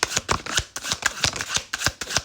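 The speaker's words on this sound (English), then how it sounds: "You saw me shuffle." Playing cards are shuffled rapidly up close, with a quick series of crisp riffling and snapping bursts.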